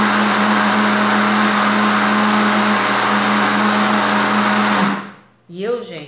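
An electric mixer runs steadily and loudly for about five seconds, beating a homemade coconut powdered soap mixture, then cuts off abruptly and a voice speaks.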